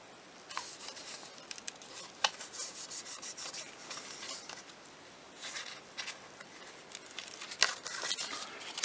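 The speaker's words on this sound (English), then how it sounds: "you can use this backing to burnish it down." Adhesive backing is rubbed firmly over the outside rearview mirror of a Corvette C5, producing soft, close scratchy rubbing strokes in an irregular rhythm at a low level.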